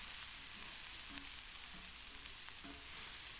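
Beet greens cooking with onions, garlic, beet stock and black pepper in a frying pan outdoors off-grid on Hawaii's Big Island, a faint, steady sizzle with a few soft stirring clinks.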